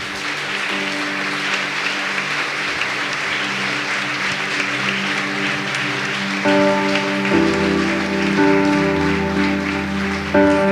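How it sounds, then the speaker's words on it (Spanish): A church congregation at a Sunday service applauds in a sustained, dense wash of clapping, while sustained musical tones from instruments begin to rise and hold beneath it toward the end. "Denle un gran aplauso a nuestro Rey, por favor."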